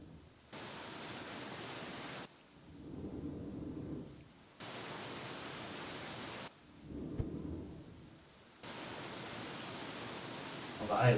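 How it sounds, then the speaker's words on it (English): Rain with rumbling thunder in the survival video game Escape the Pacific, a steady hiss that cuts in and out in blocks, broken by low rolls of thunder in the gaps, fairly quiet. "Plus it's raining."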